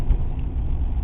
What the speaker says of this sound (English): the stock exhaust sounds really nice